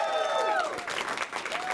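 A studio audience at a late-night talk show breaks into a burst of clapping and cheering that swells after a brief voice, then keeps going steadily.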